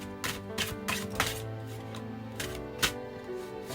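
Quick riffling bursts of a deck of oracle cards being shuffled, close and crisp, repeating in short uneven flurries.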